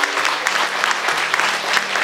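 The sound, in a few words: applause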